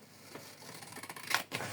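Large scissors snip through paper, cutting out mould parts traced from a ship construction plan; a few close, crisp cuts and rustles, the loudest near the end, with no talk.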